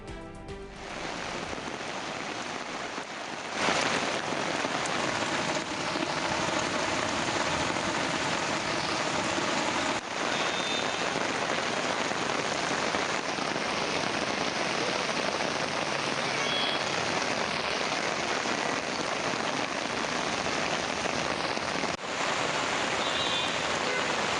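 Steady, heavy rain pours continuously on a city street in Hyderabad, a dense hiss of drops on surfaces with a faint engine hum of heavy traffic underneath.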